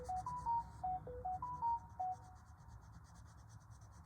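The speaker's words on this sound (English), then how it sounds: "Sorry about my phone." A mobile phone ringtone plays a short repeating melodic pattern of clear beeps at moderate volume during a colouring session, over the quiet scratch of pencil on paper, then stops.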